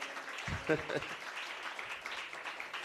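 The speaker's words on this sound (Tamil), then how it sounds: "பெண்கள்லாம் ஒரு சிறப்பாக ஒரு கைத்தட்டுங்களேன்." Women in a church gathering clap in response to a preacher's request, a short patter of applause alongside a speaking voice.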